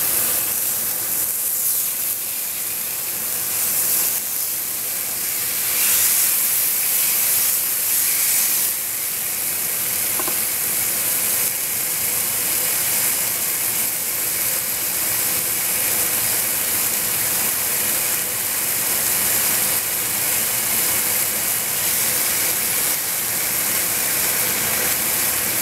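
Chicken with new spices steams and sizzles in a pan over lowered heat, a steady dense hiss running loud and unbroken throughout with no talking.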